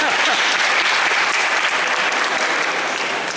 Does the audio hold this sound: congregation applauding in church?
yes